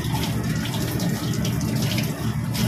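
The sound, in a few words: washing pechay (bok choy) under running water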